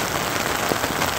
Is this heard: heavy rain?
yes